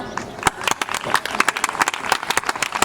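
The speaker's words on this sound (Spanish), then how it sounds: "un forte aplauso para José, por favor" Audience applause for a contestant named José at a singing contest, with dense rapid clapping, some louder close claps standing out, and a light crowd murmur underneath.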